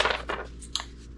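Scissors cut a paper template for a kayak's retractable skeg in a workshop, giving a few quick, close snips with a small metallic click near the end, with no voices.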